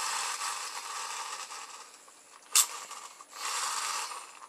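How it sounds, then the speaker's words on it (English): A small friction-motor toy car's flywheel whirs after being pushed, a faint, close, airy spinning hum that swells, dips with a brief sharp click midway, then rises again before fading. "it's got a flywheel in there that when you push it, it keeps running"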